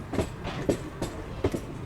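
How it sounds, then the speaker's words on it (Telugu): Faint, distant rumble of a DEMU train with soft rhythmic clacks of wheels over rail joints, low and steady, heard from aboard the Vikarabad–Guntur Palnadu SF Express. "మీకు అక్కడ దూరంగా ఒక ట్రైన్ కనిపిస్తుంది కదండి,"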